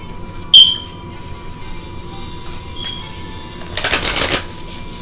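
A Moonology oracle card deck being shuffled, with a crisp riffle of cards near the start, quiet handling after, and a longer, louder burst of shuffling toward the end, with no voices.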